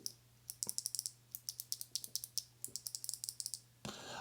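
Switches on a Keychron C2 hot-swap keyboard, some lubed and some unlubed, are pressed repeatedly, giving a close run of crisp, quick clicks and clacks in an irregular rhythm, ending with a brief rustle.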